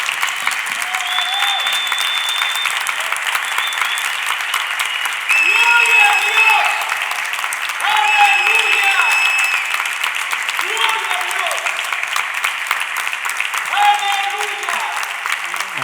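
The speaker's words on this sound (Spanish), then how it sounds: "Vamos a darle con fuerte aplauso la bienvenida a todos los que están con nosotros" Loud, sustained applause from a church congregation welcoming listeners to a service, a steady roar of clapping across the whole stretch with faint voices and tonal sounds rising briefly above it.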